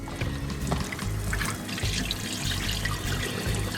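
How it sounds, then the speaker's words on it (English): Pike nuggets being rinsed under a running kitchen tap, a continuous close splash and trickle of water throughout. "gonna rinse these pike nuggets, get the milk out of them. Give a nice clean rinse"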